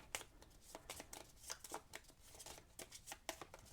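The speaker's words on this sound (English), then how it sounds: "So we'll just shuffle her back in here." A card gets shuffled back into a deck during a Legendary deck-building board game, a quick run of crisp riffling flicks close up and fairly quiet.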